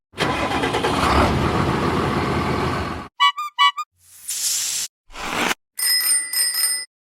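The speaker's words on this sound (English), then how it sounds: "Sound is bicycle bell." A bicycle bell rings in several quick, bright metallic trills, near and clear, following a stretch of engine noise and separated by short gaps of silence.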